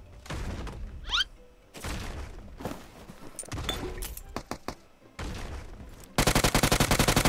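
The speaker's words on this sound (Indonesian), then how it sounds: "Jadi tembakan dia kali tadi." Gunfire in a mobile shooter video game: scattered single shots and short bursts, then a fast rapid-fire rattle at the end, fairly quiet overall with gaps between volleys.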